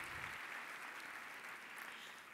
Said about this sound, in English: So how about a big round of applause for our Sea Service Leadership Association board and all the hard work they put into this